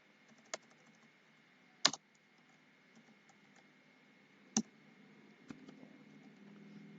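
A computer keyboard clacks as Java code is typed, a few sparse, sharp keystrokes spaced seconds apart over a faint steady hum, close and otherwise quiet.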